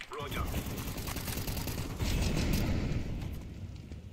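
Dense Counter-Strike gunfire crackles through a close, busy firefight, sustained bursts layered with game noise while a player talks over it.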